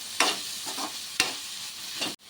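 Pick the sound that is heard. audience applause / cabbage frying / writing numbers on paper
cabbage frying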